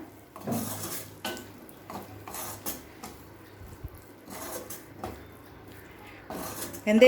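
A spoon stirs mango thokku in a pan, making intermittent close metallic clinks and scrapes against the pan with short pauses between strokes.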